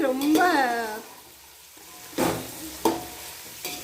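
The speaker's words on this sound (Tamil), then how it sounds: "இதை நல்லா வதக்கி விடணும்." Tomato rice ingredients sautéing in a pan, with a steady sizzle of frying and a few sharp scraping stirs of a utensil against the pan, while a person talks over it.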